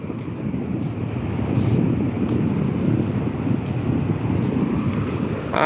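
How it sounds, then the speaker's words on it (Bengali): Steady roar of sea waves and wind on the beach at Digha-Tajpur, broad and continuous, loud and close, with no clear talking. "সমুদ্রের আওয়াজটা তোমরা পাচ্ছ কি না"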